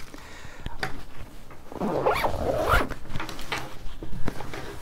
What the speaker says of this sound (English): This one has the 2 zippers, of course, just like the other one